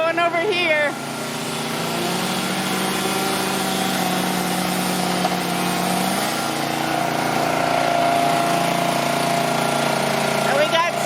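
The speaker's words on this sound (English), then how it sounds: "We got the chainsaws going over here." Chainsaws run at a work site in Willow, Alaska, a steady buzzing engine drone that holds for the whole stretch, with a louder rev near the start and end.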